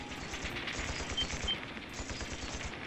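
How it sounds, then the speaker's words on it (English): Gunfire in the video game The Legend of Heroes: Trails of Cold Steel II crackles in bursts of a dense, continuous volley, with a few brief high tones above the clatter. "sounds like gunfire"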